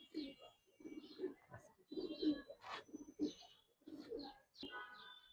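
Giribaz pigeons coo in repeated low, throaty bursts, several overlapping calls with brief pauses between, close by, along with a few higher chirps.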